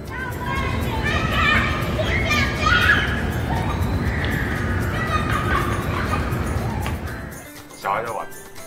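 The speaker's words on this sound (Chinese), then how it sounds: "考音听时紫阳公园的小孩在玩。" Children play in a neighborhood park near a high school, a lively mix of distant shouts and chattering young voices that continues throughout, with one brief louder cry near the end.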